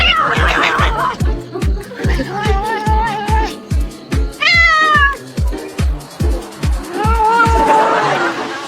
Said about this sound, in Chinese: 网友发了一条猫咪吃天牛的视频。